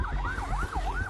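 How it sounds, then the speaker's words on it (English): A wailing ambulance siren rising and falling in quick repeated sweeps, loud and close, over a low rumble of traffic. "Ambulances were rushed in past the security cordon"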